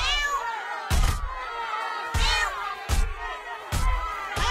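A cat meows repeatedly in South Park: The Stick of Truth video game, with four loud, drawn-out, harmonic meows close up, each punctuated by a dull thump, over a busy game background.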